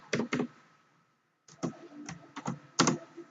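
Fingers typing C code on a computer keyboard, heard as close, quick bursts of clicking keystrokes with a short silent pause between clusters.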